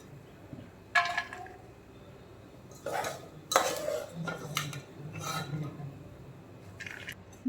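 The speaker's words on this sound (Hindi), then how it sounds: "मैंने बर्तन में से सारे ड्राई फ्रूट्स को निकाल लिया है।" Dry fruits are scooped out of a cooking pan with metal utensils, giving several sharp clinks and scrapes of metal on the pan with soft rustling between them, close and fairly quiet.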